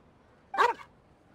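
A single short, sharp dog bark from a pet dog in the video game Genshin Impact, close and clear over quiet background.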